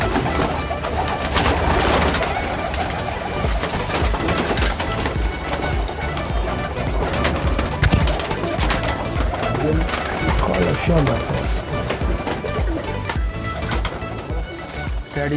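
Pigeons from a breeder pair coo amid a busy, crowded loft, with layered calls and rustling under ongoing talk.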